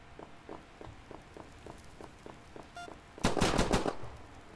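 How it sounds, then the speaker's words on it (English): Evenly spaced muffled thuds tick along in a ninja video game before a sudden loud burst of rapid gunfire erupts, dense and close, then fades. "I heard the gunshots."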